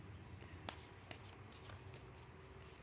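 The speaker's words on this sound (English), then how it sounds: "I'll just give them a quick shuffle for you." Tarot cards are shuffled briefly up close, giving soft riffling and a few sharp taps, quiet and without talk.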